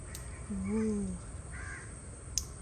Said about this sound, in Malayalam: കാക്കന്റെ ശബ്ദം കേൾക്കുന്നുണ്ടേ